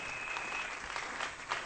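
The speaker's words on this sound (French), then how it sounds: "Est-ce qu'on peut acclamer très fort pour le roi?" Church congregation clapping and cheering for the king during a sermon, a brief burst of dense applause that holds steady at moderate volume.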